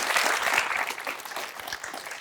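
An audience at a talk claps, giving a dense, steady round of applause that stays at an even level throughout and fades only slightly toward the end.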